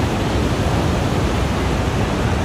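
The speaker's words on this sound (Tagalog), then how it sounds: "Napakalakas ng alon." A dense, steady roar of strong crashing ocean surf at Baler, Aurora, loud and continuous with no pauses or voices.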